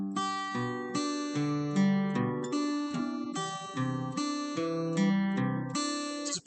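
A six-string guitar picking pattern played sped up, bright plucked notes in a quick repeating rhythm with ringing low strings, clear and close with no voices.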